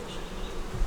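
Honey bees hum at the entrance of a double deep nuc hive, a short, steady close buzz with a low thump near the end.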